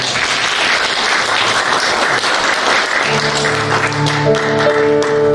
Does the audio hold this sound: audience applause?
yes